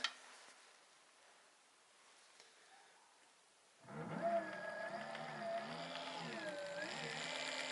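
An electric bike hub motor spun up for a repair check, triggered with a magnet: after a quiet stretch it starts abruptly with a steady whining hum whose pitch sweeps up and down, close and continuous.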